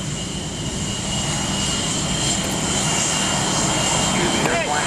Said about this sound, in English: They're flying Rhino airplanes.